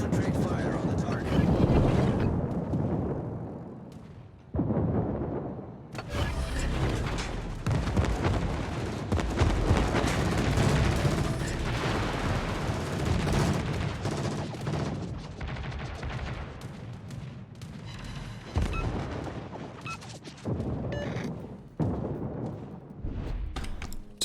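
Sustained gunfire in a video game match, with dense bursts of shots and loud, continuous impacts layered over game sounds for most of the stretch, with voices talking over it.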